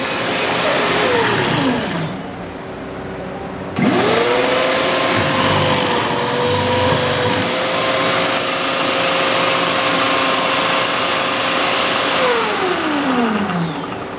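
Loud, sustained whine of a DIY pocket hole machine drilling into wood, rising and falling in pitch as the motor spins up and winds down, with a brief pause partway through.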